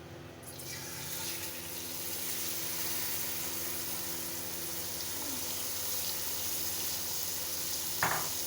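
Chana dal tipped into hot fat in a pan for halwa, giving a steady close-up sizzle and hiss that holds for several seconds, with a brief clatter near the end.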